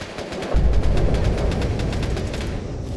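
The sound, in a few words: gunfire in the video game Fallout 76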